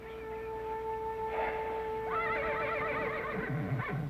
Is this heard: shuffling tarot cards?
no